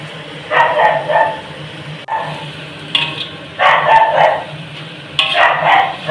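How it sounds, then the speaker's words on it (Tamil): A puppy barks behind a house in a series of short, sharp bursts, some of them doubled, at moderate distance. The barks repeat roughly every second or two over a faint steady background hum. "வீட்டு பின்னாடி பப்பி குலைச்சிக்கிட்டு இருக்கு."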